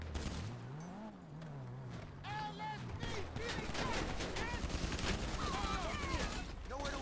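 Bursts of rapid gunfire from the video game GTA V Online crackle through the clip with a vehicle engine underneath. The shooting is loud and sustained in a busy game scene with no speech.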